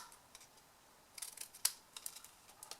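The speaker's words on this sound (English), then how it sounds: "then we're going to cut in here" Scissors cut white paper for a Christmas table favour, a few crisp close snips and clicks scattered over a quiet room.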